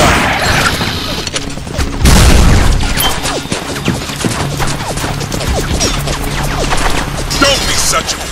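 Dense machine gun fire and explosions in the shooter game Binary Domain, a continuous loud barrage of rapid bursts with booming impacts, and voices shouting over the combat.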